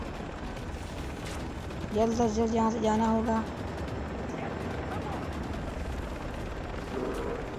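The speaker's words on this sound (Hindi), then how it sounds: "हेलीकॉप्टर से ही बुलेट फायर हो रहे हैं" A helicopter firing bullets in the Far Cry video game, a steady rumbling drone with a brief tonal burst in the middle, while someone speaks over the top.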